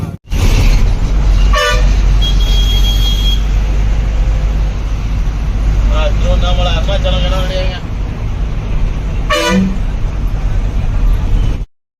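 Two horn blasts sound amid busy traffic near a bus stand and railway station at Katpadi. Each toot lasts a second or two and stands out over a constant roadway rumble, with voices in the background.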